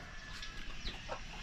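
Chickens cluck softly at a distance while being given feed, with faint, scattered calls over a quiet background.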